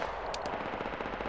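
Gunfire in the tactical shooter Project Reality: two sharp cracks near the start followed by a steady run of rapid shots, loud and close, with no talking.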